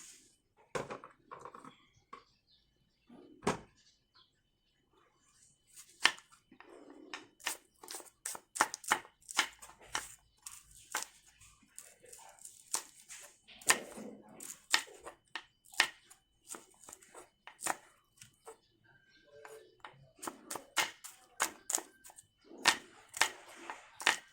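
Sharp knife strikes on a cutting board chopping garlic and shallots for chicken larb, coming in quick uneven bursts with short pauses between, close and crisp, no talking.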